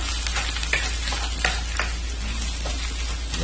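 Vegetables and egg stir-fry in a hot pan for fried rice, a steady close sizzle with scattered spatula scrapes and clicks, continuous and fairly loud, without any voices.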